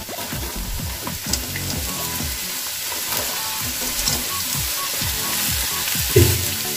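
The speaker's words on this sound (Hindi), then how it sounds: "सब्जियां हमें ज्यादा फ्राई नहीं करना है। अब हम इसमें ऐड करेंगे बंद गोभी।" Vegetables and cabbage stir-frying over a high flame for chicken hakka noodles: a loud, continuous sizzle broken by a regular rhythm of stirring strokes, with no voices.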